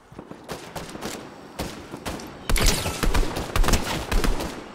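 Gunfire in Fortnite sounds as rapid bursts of shots, first lighter and spaced, then louder and denser for the second half, close and punchy with no speech over it.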